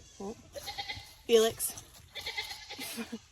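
Goats bleat in a farm pen during breeding season, with a few scattered calls and one louder nearby cry, heard beneath someone talking.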